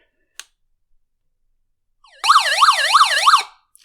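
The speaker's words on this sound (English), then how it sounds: "So you press and hold the SOS for 3 seconds, and you get that nice loud siren" A Wayl's Buzz 4000 emergency radio sounds its SOS siren, a loud, close, rapidly warbling electronic wail that rises and falls about four times after a faint click and a short ramp-up, then cuts off abruptly.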